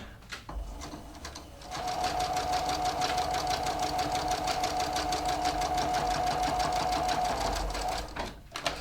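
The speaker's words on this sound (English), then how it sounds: "I'm going to stitch along this folded edge, and then then you can see what the completed seam looks like" A sewing machine stitches a flat felled seam about 1/16 inch from a folded edge, a fast, steady mechanical whir lasting several seconds, with a brief start-up and a few clicks when it stops.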